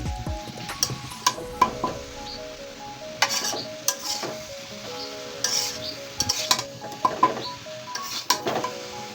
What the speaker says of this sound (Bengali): সিম দিয়েই ভাজি করতেছি